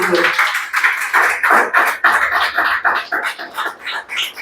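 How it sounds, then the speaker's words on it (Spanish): A church congregation breaks into applause during a service, a dense run of claps repeating steadily and loudly for several seconds, with a voice speaking over it. "Dale un aplauso."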